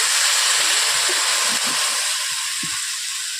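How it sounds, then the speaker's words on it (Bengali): A little water splashed onto potatoes frying in a hot kadai for street-style egg chowmein makes a loud, continuous, close-up hissing sizzle that eases slightly toward the end. "অল্প করে হালকা করে জল দিয়ে দিচ্ছি।"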